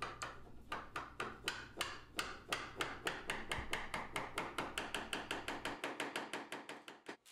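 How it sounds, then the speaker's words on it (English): A wooden wedge is tapped to clamp picture frame miters, a long run of quick, evenly spaced hammer taps on wood, close and crisp, continuing steadily with no talk. "By tapping the wedge into place, the miters are clamped firmly closed."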